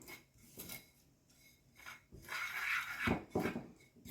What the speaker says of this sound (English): And then we're going to mix this all up.